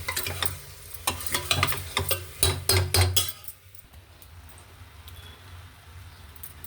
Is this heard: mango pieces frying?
yes